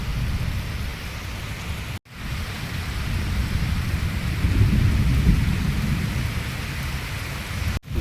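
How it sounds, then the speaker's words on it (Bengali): Heavy rain pours steadily outdoors while deep thunder swells and rumbles through the middle, loud and continuous with no voices and two brief dropouts. "যত সময় গড়াচ্ছে বৃষ্টি জোরেই আসছে"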